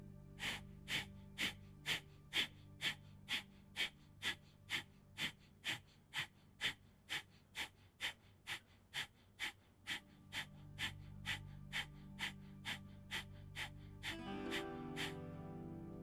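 Rapid, forceful nasal exhalations repeat in a steady pulsing rhythm during a beginner hatha yoga breathing exercise, about thirty close, even bursts, slowing and giving way to quieter, longer breaths near the end.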